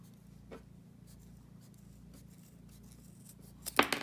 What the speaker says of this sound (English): we're going to just cut off all this extra fabric that we have up at the top